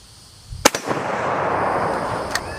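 A Mosin rifle fires at a distant steel target, giving a sharp loud crack at the start followed by a long rolling echo, with a second fainter report near the end.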